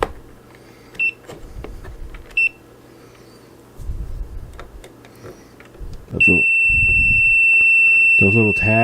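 Multimeter continuity test on an outlet, giving short sharp beeps and then a long sustained tone as the probes make contact, with some handling noise and brief speech in between.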